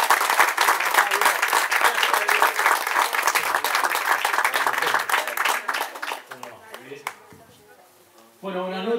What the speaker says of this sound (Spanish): Recibamos un fuerte aplauso y apuntamos.